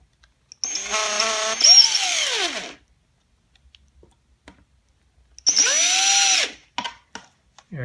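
A cordless power drill drives the final screw during a Hori Myoungshin Fanta controller conversion, with two close whining bursts that rise in pitch and then slow under load, separated by quiet and followed by a few small clicks.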